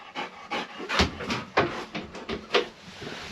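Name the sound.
dog panting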